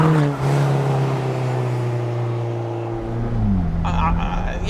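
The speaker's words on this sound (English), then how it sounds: "I'm going to change gear." A modified 340 bhp Alfa Romeo 4C holds a loud, steady engine drone, then the note drops abruptly as a single-clutch gearbox changes gear, heard close from inside the cabin.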